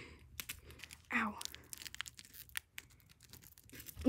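Small Toxic Waste candy packaging being torn open by hand, one short ripping burst amid quiet crinkling and faint handling noises, close up with no talk.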